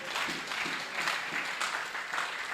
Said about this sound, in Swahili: Makofi kwa mchungaji kiongozi.